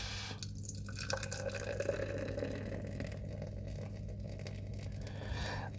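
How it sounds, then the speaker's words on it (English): A session-strength pale beer poured slowly from a can into a glass, with a quiet, continuous trickle and soft fizzing of froth rising. "Let's have a little look and see if I can pour it without too much froth."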